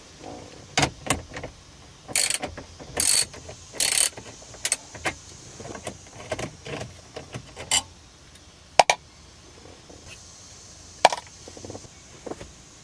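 A ratchet works bolts loose behind a Toyota Highlander head unit, giving bursts of quick clicking and scattered metallic clacks, close and fairly loud, with no speech.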